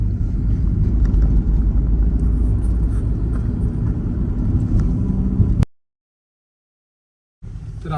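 A car engine rumbles steadily and close while being parked, running for about five and a half seconds before cutting abruptly to silence, then a short burst of rumble returns at the very end.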